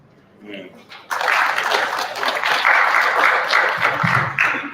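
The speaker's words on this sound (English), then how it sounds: "We can clap for her some more." Applause from an audience at a stakeholder meeting on cost of living and poverty in Zambia, with a dense, loud burst of clapping that follows a brief voice and carries on steadily to the end.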